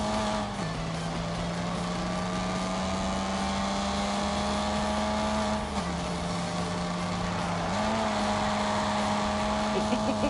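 A race car engine in The Grand Tour video game drones at a steady pitch that drops and climbs with gear changes, loud and continuous throughout.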